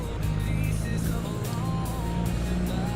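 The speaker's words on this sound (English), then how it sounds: "Sounds like a tractor that'll move a little bit." A 1998 Peterbilt 379 long-nose truck with straight pipes, a 500 Detroit engine and turbo in Farming Simulator 25, droning in a deep steady rumble held close and loud with no talking.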